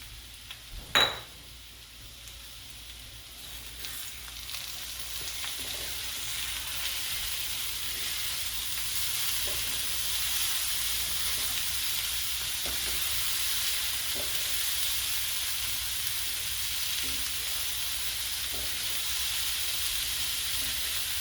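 Potatoes and peppers sizzle steadily in a hot pan, a continuous close frying hiss broken early by a sharp clatter as they are stirred, with no one speaking.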